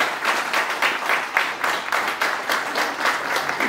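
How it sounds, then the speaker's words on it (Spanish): Strong applause from an audience at a book presentation, a dense burst of clapping with distinct rhythmic peaks, loud and continuous, with no talk over it. "Un fuerte aplauso para él."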